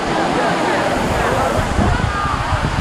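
Sandiequan waterfall on Lushan mountain, heard from the pool at its base, gives off a constant, dense roar of crashing water that stays loud and unbroken throughout, with voices nearby.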